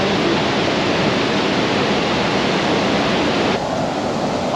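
Dense, steady roar of rushing water, loud and unbroken, a waterfall in Quebec heard up close, with no voices.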